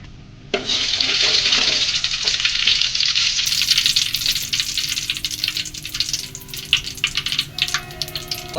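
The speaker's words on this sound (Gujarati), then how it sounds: "એમાં ગયું આ જીરું, થોડીક રાઈ મેથી. હજી તેલ ગરમ થોડું થાય." Cumin, mustard and fenugreek seeds drop into hot oil and burst into a loud, dense sizzle that runs steadily, then thins into crackles and pops near the end, close up with no talking.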